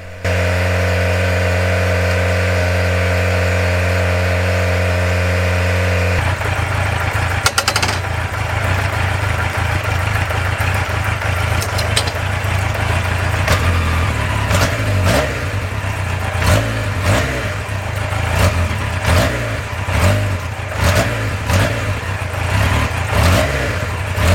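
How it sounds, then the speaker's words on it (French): A car engine hums steadily at first, then revs up and down repeatedly while sprayed to test acceleration, loud and close, with rough uneven bursts. "on va asperger et on va voir si le moteur accélère"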